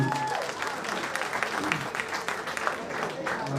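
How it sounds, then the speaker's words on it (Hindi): Audience applause at an Urdu poetry mushaira, a steady dense clatter of many hands clapping throughout, with a faint voice briefly audible near the start. "आप सबकी भरपूर तालियों के बीच"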